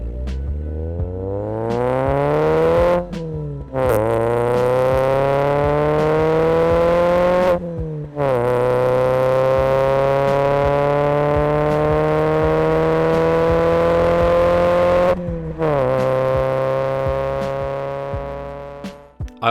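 A VW Caddy van fitted with a custom Powerflow aftermarket exhaust accelerates hard through several gears, its loud droning engine note climbing steadily before each gear change briefly cuts it, then rising again.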